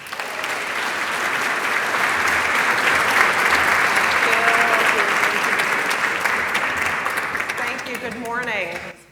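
A large audience applauds steadily in a hall as two speakers are welcomed on stage, a dense, loud wash of clapping that swells and then tapers off, with a few voices surfacing near the end.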